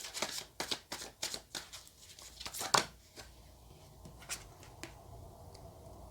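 Tarot cards riffle and slap in a quick run of crisp, close shuffles, thinning into a few softer card flicks, all fairly quiet with no voice over them.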